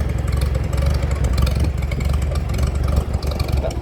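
A vintage Farmall Super A tractor engine idles steadily up close, a low, loping mechanical chug with an even rhythm and no voices.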